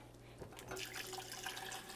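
Ice-cold water pours steadily into a container while oat milk is being made, a soft continuous rush and trickle that begins after a low hum and runs quietly to the end.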